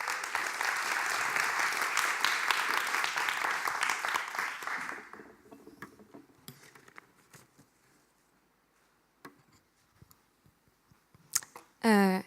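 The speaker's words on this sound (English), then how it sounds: "Give her a warm applause." An audience at a graphic design presentation bursts into loud, dense applause for about five seconds, then it thins to scattered claps and small rustles before a voice begins speaking.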